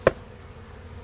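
Honey bees shaken onto a lid, one sharp tap followed by a faint, steady buzzing hum from the bees close by.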